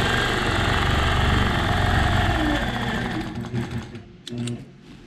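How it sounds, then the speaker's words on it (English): A sewing machine stitches through a custom memory quilt, running at a steady, loud whir for nearly three seconds, then slowing and stopping in a few short bursts as the needle nears its mark. "So we're just going to stitch up to this point."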